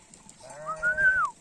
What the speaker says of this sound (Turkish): koyunlarımız şöyle bir yayladan buraya biraz yayıldılar